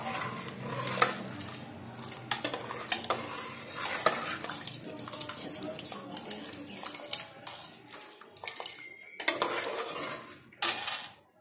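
Metal utensils clink and scrape against a pan while sambar is tempered, with busy irregular kitchen clatter close by throughout and a brief louder clatter near the end.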